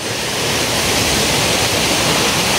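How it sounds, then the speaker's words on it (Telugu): A monsoon waterfall near Chikmagalur roars with a dense, loud, unbroken rush of falling water, close and steady throughout. "పైనుంచి వాటర్ వస్తున్నాయి వాటర్ ఫాల్ నుంచి"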